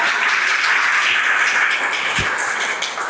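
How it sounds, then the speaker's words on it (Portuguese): Audience applause fills a lecture hall at Dr. Taciano's Senac talk: a dense, steady wash of many hands clapping close by, holding strong throughout and easing slightly toward the end, with no voices. "Uma salva de palmas para ela."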